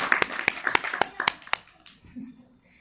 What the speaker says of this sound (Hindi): एक बार उसके लिए तालियां बजाओ